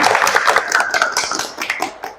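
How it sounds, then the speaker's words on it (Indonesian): A group of children in a classroom counselling session clapping together, a quick burst of uneven handclaps that thins out and fades within a couple of seconds. "tepuk tangan untuk semua"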